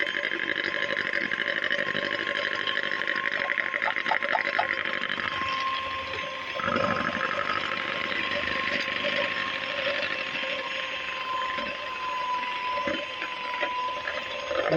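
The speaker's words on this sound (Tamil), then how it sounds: "கொஞ்சம் கொஞ்சமாக பவுடர் சுகர் ஆட் பண்ணி நல்லா பீட் பண்ணணும்." An electric mixer beats powdered sugar into butter for coconut butter cookies, whirring steadily and fairly close throughout with a continuous motor drone.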